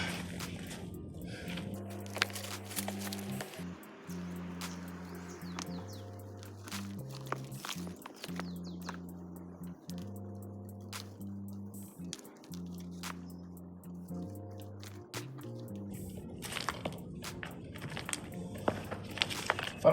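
A small rock scrapes and digs into outdoor soil among stones, with soft squishy scuffs and brief clicks scattered throughout, faint beneath steady background music.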